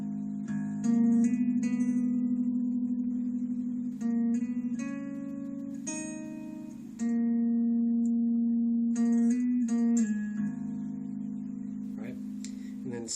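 Guitar playing a melody slowly, clear sustained single notes ringing out one after another over a held low tone, moderately loud and close.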